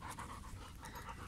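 A dog pants quickly and steadily, short rapid breaths close by, with no talking.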